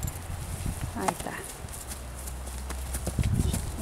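A young grey roan horse walks slowly, its hooves clip-clopping softly in an uneven rhythm, mostly under someone talking.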